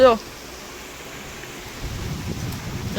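Constant rain hisses evenly throughout, with brief bursts of voices at the very start and end.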